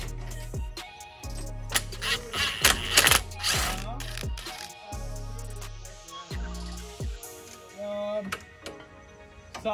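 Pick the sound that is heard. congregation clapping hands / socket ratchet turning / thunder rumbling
socket ratchet turning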